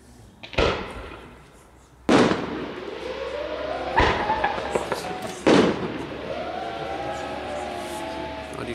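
Pyro Union firework shells, 75 mm to 100 mm calibres, launched one after another: four heavy booming shots a second or two apart, each followed by crackling and whistling trails, with occasional voices in the background.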